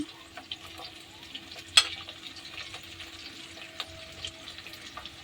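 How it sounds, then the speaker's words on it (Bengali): Spices with turmeric fry in a pan of oil for a tilapia curry, a soft continuous sizzle with occasional clicks and stirring taps, faint and close, with no one speaking. "ভাজা ভাজা হয়ে গেছে মশলাটা দিয়ে দেবো প্রথম হলুদ দিয়ে দিচ্ছি"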